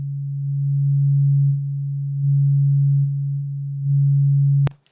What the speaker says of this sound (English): if I sweep up this high pass filter, we would expect it to get even quieter